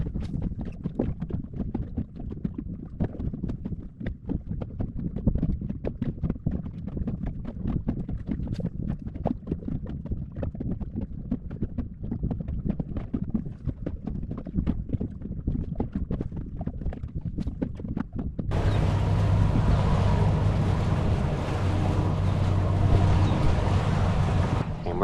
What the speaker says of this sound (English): I'm gonna be going offshore, grouper fishing in my little 17 Dusky here.